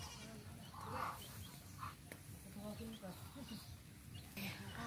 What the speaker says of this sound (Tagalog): Kawawa ang kambing mo.